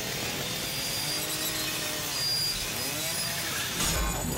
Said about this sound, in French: je coupe un petit peu ce petit fil là, cette petite tronçonneuse